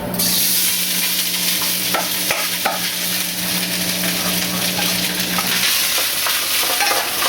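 Leftover quinoa stir-frying in coconut oil, with a steady, close hiss of frying that continues throughout and occasional scrapes and clicks of stirring.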